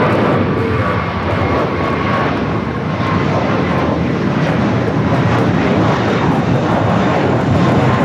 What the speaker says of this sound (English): That was American Airlines Flight 4 going to JFK, 11-year-old Airbus A321